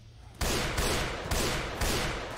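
Gunfire from the Left 4 Dead 2 video game: loud, rapid bursts of shots begin abruptly after a quiet moment and repeat in several dense volleys, with no talk over them.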